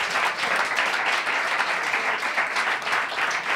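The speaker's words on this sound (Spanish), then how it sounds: "Un aplauso, por favor," A studio audience at a Spanish comedy show claps in a dense, steady round of applause that lasts the whole stretch.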